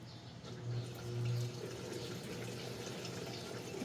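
Panasonic NA-F70S7HRM2 7 kg top-load automatic washing machine filling with water during its final rinse, a steady close rushing and trickling of inflow with a low hum underneath, running alone without speech.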